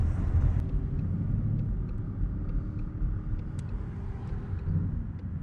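A Ford Mustang's engine gives a deep, steady rumble while driving, heard from inside the car as a low continuous drone with road noise and no talk over it.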